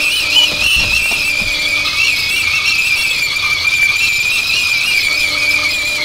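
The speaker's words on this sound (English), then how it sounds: "But that noise is normally coming from a kettle" A kettle gives a high, piercing whistle that holds a steady shrill tone throughout. It is loud and continuous, with no voices.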